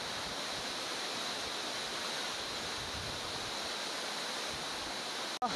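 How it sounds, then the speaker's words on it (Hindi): Changey Falls waterfall pours in a steady, dense broadband roar that fills the whole clip evenly, with no voices over it. "देखिए पीछे मेरे झरना गिर रहा है"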